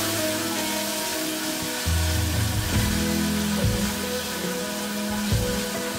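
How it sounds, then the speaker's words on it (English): Onions frying in a pan over a low flame for egg masala curry, a steady crackling sizzle with faint tonal hum underneath, continuous and close with no talking. "We will keep the flame slow, okay, so that the onions fry well."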